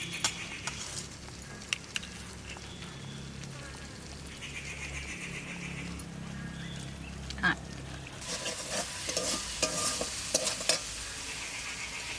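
A vegetarian curry of garden vegetables and sweet potato, cooked in a village-style Bengali kitchen, is stirred in a pan, giving a soft sizzle with scraping, clattering stirs that grow busier toward the end.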